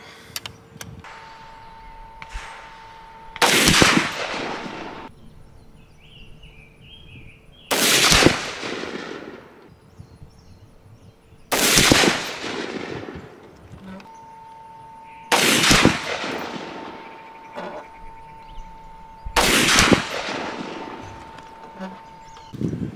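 Sig 716i rifle fired in an outdoor ammo test: five loud single gunshots spaced several seconds apart, each a sharp crack with a decaying echo, separated by quiet stretches with a faint background hum.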